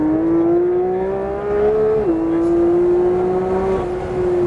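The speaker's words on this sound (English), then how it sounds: "Let it drift out to your side as you open the wheel and add power." A Porsche powers out of a drift on a track, its engine holding a steady loud drone with one brief dip, then pulling on under heavy power, close and alone.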